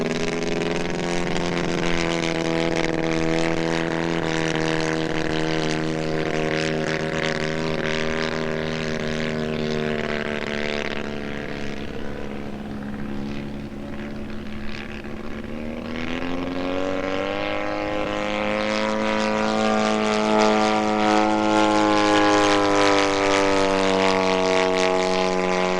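A 2.43 m, 47% scale RC Pitts Special biplane with a Valach 170 engine drones steadily in flight for the whole stretch, its engine pitch dipping midway and then rising again, loud and continuous, with no talk.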